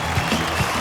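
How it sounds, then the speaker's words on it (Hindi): Audience applause on a televised cooking competition set, a short burst of steady clapping heard at close range. "तालियां बजती रहनी चाहिए।"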